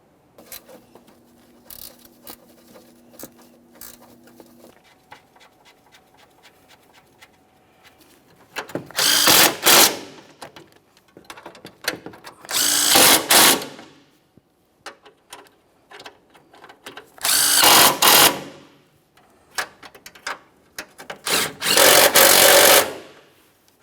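A power tool snugs valve cover bolts on a 2015-2019 Subaru Outback 2.5L H4 engine in four separate whirring bursts of a few seconds each, close and loud, with quieter clicks and handling noises between.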